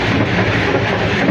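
Inside a moving passenger train bound for Mashhad, a dense, steady rumble and rolling roar fills the carriage without a break.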